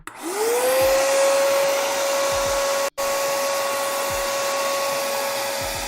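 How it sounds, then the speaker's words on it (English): A vacuum cleaner whirs up to a steady, loud whine close by, cuts out for a moment, then resumes its constant drone while cleaning up foam dust. "And I'm just gonna run the vacuum real quick,"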